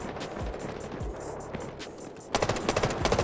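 Machine-gun fire in the shooter game Delta Force, with repeated rapid bursts that grow denser and louder toward the end.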